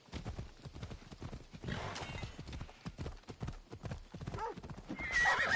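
A horse in Assassin's Creed Odyssey gallops with quick rhythmic hoofbeats and neighs loudly partway through, close and fairly clear, over light game ambience.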